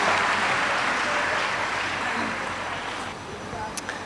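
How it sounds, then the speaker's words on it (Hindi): Audience applause welcoming a sister speaker to a plenary session on global enlightenment, a broad steady wash of clapping that slowly fades over a few seconds, with some background voice. "सभी तालियों से स्वागत करेंगे हमारी सिस्टर सोंजा"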